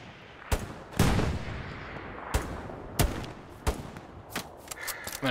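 Gunfire in the World War II shooter Hell Let Loose, with sharp single shots cracking at uneven intervals, some near and loud, others farther off, over a steady battlefield rumble.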